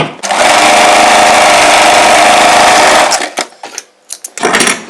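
Close and loud, a sewing machine runs steadily for about three seconds while stitching a frill sleeve on a layered chudidar, then stops, leaving a few short clicks and handling noises.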